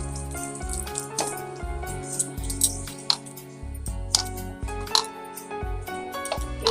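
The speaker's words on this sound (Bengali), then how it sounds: "এবারে অল্প জল দিয়ে আমি এটাকে মাখিয়ে নেব।" Water is poured into semolina dough for samosas and worked in by hand, giving wet, squishy kneading and splashing sounds with irregular clatter, close and fairly soft, with no talking.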